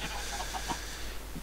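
Chickens in Minecraft give soft, short clucks at an irregular rhythm, faint and scattered under a constant noisy hiss and low hum.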